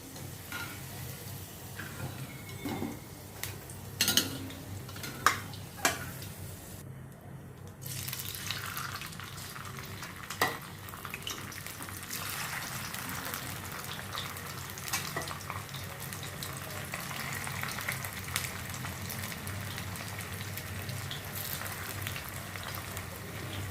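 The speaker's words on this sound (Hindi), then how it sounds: "इसी तरह से बाकी के जो भी बचे हुए हैं सेकंड बैच भी मैं फ्राई करती हूँ" Potato fries for spicy masala fries deep-frying in hot oil, a steady low sizzle running throughout with a few sharp clinks and bursts early on, fairly quiet and with no talking.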